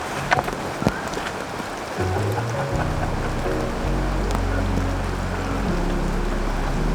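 Heavy rain pours at a cave campsite, a dense steady hiss with scattered louder drips and taps early on, then a deep rumbling wash building from the two-second mark and holding loud to the end.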